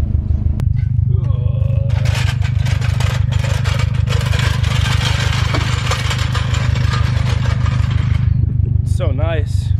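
A 2019 Subaru STI fitted with an Invidia R400 catback exhaust idles with a loud, pulsing burble, then is revved in a sustained raspy burst, with voices talking over it at the start and end.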